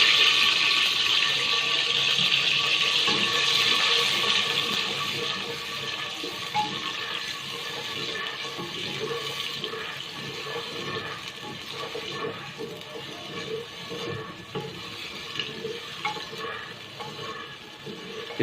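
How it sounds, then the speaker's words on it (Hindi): Ground onion and tomato paste sizzling in hot oil for a chicken and arvi curry, a steady bright hiss that swells early and then settles to a quieter crackle, close and continuous. "अब हम इसमें जो हमने प्याज और 2 टमाटर ग्राइंड किए थे, पीस लिए थे, इसे हम शामिल करेंगे।"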